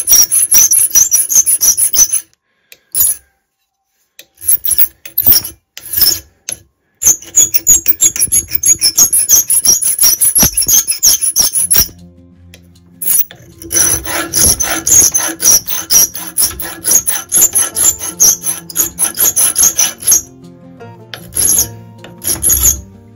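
A hand file rasps against a rosewood handle being shaped for a special plane screwdriver. Loud, close strokes come in quick rhythmic bursts with a few brief pauses between runs.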